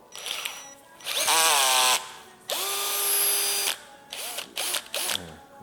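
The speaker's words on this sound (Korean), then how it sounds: "이렇게 두껍고 센 모를 드릴에 이렇게 장착을 해서" A power drill fitted with a thick, stiff-bristled brush spins up in bursts: two long whirring runs that rise in pitch, then several short revving spurts, loud and close.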